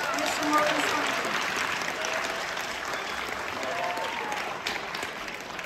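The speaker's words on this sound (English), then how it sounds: "give him a warm round of applause" An audience at a school event applauds warmly for a guest speaker, a sustained wash of clapping with a few cheers, heard alone and fairly distant.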